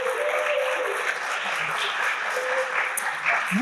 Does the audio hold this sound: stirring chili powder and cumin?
no